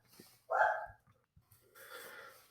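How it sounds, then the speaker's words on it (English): A dog in the background gives one short, loud bark or huff, followed by quieter breathy snuffling and soft rustle. "You hear my dog in the background barking"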